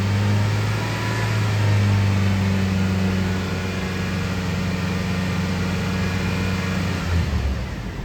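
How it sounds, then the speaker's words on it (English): Car engine idling and then revved while the battery charging voltage is checked, giving a sustained loud engine drone with a steady low hum that drops off near the end, with no talking. "I want to start it with all my loads, but I want to rev it"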